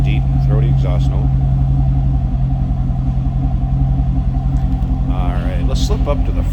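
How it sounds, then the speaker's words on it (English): Deep, throaty exhaust of a 2006 Chevrolet Corvette coupe idling up close from the rear, a steady low rumble with a pulsing beat throughout, while a voice talks over it. "It's nice deep throaty exhaust note"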